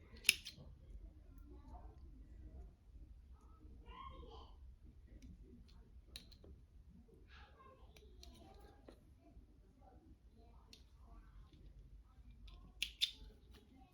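Scissors snip at stitches in the fabric of a car seat canopy, producing scattered faint close clicks and a couple of sharper snips, with soft talking and quiet room hum throughout.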